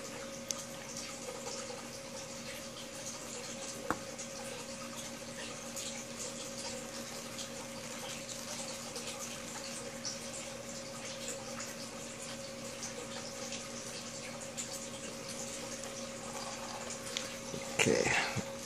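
Water runs steadily while washing paydirt in a Dirt Hogg, a faint continuous rushing flow with a low mechanical hum beneath it, and a brief clatter near the end.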